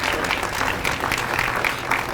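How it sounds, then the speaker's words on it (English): At a city press conference, an audience claps for the mayor. The applause is a brief, dense wash of clapping, continuous and moderately loud, with no voices on top. "Let's give him a round of applause if we could."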